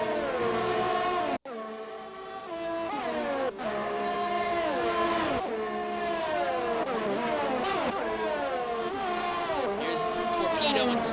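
Ferrari-powered race cars in a racing game scream past at high speed, their engines whining in rising and falling tones with gear shifts, loud and continuous, one car's note overlapping another.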